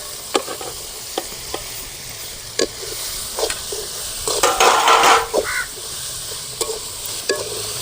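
Crushed coconut, moong dal and bell pepper are stirred in a sizzling pan, with repeated scraping strokes and utensil knocks and a busier burst of stirring midway.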